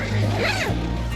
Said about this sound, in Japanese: これはダブルジッパーなんだ